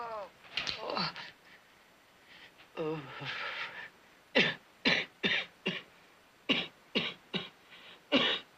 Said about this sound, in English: Cough all night.